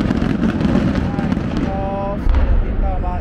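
Fireworks go off at an outdoor display venue, a steady loud crackle and rumble with a sharper burst near the end, while people talk excitedly over it.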